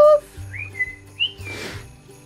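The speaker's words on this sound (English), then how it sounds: "Shall I whistle him up" A person whistles a few short rising and sliding notes to call a pet dog at home, close and clear over a low background hum.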